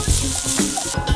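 Minced garlic, four cloves, sizzles and fries in a pan with tender cooked onions, a steady close crackling hiss throughout with no talk.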